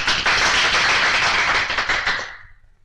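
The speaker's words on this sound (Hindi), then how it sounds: "तालियां।" A burst of applause from a group, many hands clapping together loudly before tapering off at the end.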